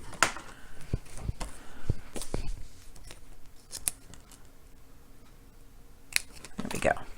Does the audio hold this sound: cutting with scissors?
yes